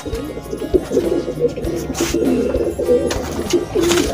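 A pigeon held in the hand coos in low, bubbling phrases, close and fairly loud, with scattered rustling and handling noises mixed in.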